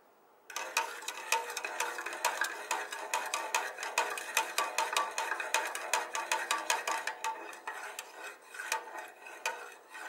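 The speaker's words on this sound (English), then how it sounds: "I'm gonna give it a quick stir so as to make sure that the salt dissolves properly" A metal spoon stirs sea salt into two cups of water, clinking quickly and steadily against the container for several seconds, close and clear, with no talking.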